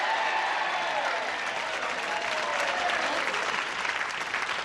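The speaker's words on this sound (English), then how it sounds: "They're booing in the right places and applauding in the right places." A studio audience at a 1984 television game show applauds, a dense, steady wash of clapping that holds loud and even for the whole stretch.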